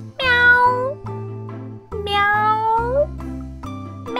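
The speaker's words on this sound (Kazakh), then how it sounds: "Мысық. Мяу." A cat meows twice, with long rising-and-falling calls a couple of seconds apart, sounding clear and close over a steady backing of music.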